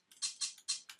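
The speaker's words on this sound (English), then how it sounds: "So here it's like a strange hi-hat" Crisp, bright hi-hat hits from a drum machine in an uneven, skipping rhythm, dry and close with nothing else playing.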